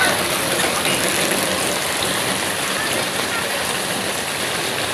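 Heavy rain falls at night in a flooding street where kids are out playing in it, a dense, constant hiss of water on surfaces, loud and close with no clear voices standing out.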